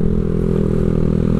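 A motorcycle fitted with an XBR Power Engine stainless exhaust rides along a roadside, its engine giving a steady low, throaty drone with some mechanical clatter, close and continuous.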